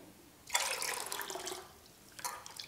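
Water is poured into a pot of South Indian rasam, about two cups, making a steady splashing pour at close range that runs for about two seconds, with a short second splash near the end.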